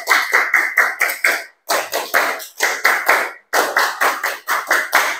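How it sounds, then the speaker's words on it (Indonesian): A class of pupils performs the Indonesian scout clap, sharp rhythmic group claps in tight bursts of four to six, repeated in three phrases separated by brief pauses, loud and close with no talking. "2 kali tepuk pramuka."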